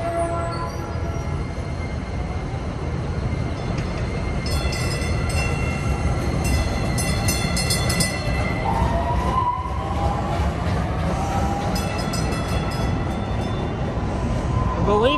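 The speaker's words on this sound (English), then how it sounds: "There's a green line train to Buckner." A DART Green Line light rail train passes nearby with a steady rumble, brief horn-like tones and squealing wheels that build toward the end.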